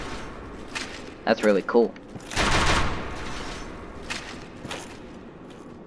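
A crossbow fires in the video game Dark Souls, giving sharp mechanical bursts and a thumping shot amid game effects, with someone briefly speaking over it.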